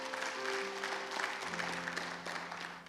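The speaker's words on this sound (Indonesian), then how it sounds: "Tepuk tangan bagi Allah kita." Steady applause from a crowd, a broad wash of clapping held at even strength throughout, with a sustained musical tone underneath.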